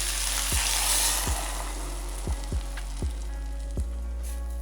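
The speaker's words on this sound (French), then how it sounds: "Je choisis de faire revenir mes poivrons et mes tomates dans une poêle séparément" Bell peppers and tomatoes sauté in a frying pan, a loud, steady sizzle with a low hum beneath and several sharp knocks and scrapes from stirring spaced about a second apart.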